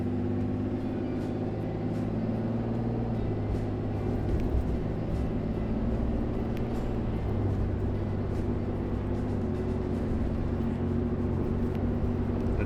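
A Ram 2500 pickup with an upgraded valve body pulling at half throttle, its engine and drivetrain a steady low drone heard from inside the cab for the whole stretch, with no clear shift break.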